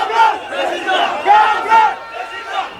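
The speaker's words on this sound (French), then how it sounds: "C'est une foule à perte de vue." Large crowd at a political rally in Douala, Cameroon, shouting and cheering in loud rolling waves that swell and fade several times, close and dense throughout.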